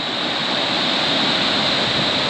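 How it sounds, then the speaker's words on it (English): A river on Scotland's Badger Divide gravel cycling route rushes and roars in a steady, loud wash of flowing water as riders cross it. No one speaks over the sound. "We've got an even bigger river to cross now."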